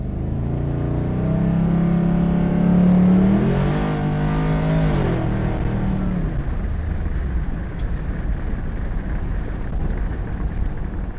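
A car engine revs up at about a quarter throttle on a dusty surface, its pitch climbing and wavering for a few seconds before settling back into a lower, rougher drone.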